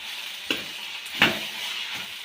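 Sprouted horse gram stirred in a hot pan, two distinct scraping stirs over a soft, steady sizzle, close and clear with no talking.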